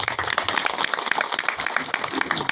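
Crowd clapping to welcome an honoured guest at a devotional gathering with a spiritual teacher, a dense, steady patter of many hands lasting a couple of seconds.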